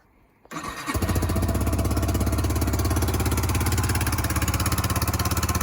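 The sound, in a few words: Yamaha YBR 125 motorcycle engine starting and running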